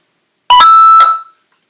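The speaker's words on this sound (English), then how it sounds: "it's another one that beeps when you boot into it" Computer booting Void Linux lets out a sudden loud electronic beep, a single harsh tone lasting about half a second and then a brief fading tail, in otherwise silent surroundings.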